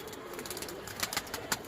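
Pigeons on a rooftop in the evening, soft cooing and a few wing flutters coming through faint, close-by outdoor ambience, with several brief brighter bursts spaced irregularly through the short stretch.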